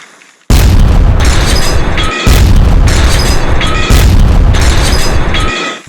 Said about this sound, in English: Another barrage? The tunnel won't hold much longer.